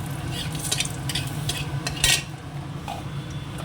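Cumin seeds and dried red chillies sizzle in hot oil in a pan, a steady crackling fry broken by a few clinks and scrapes of a utensil against the cookware.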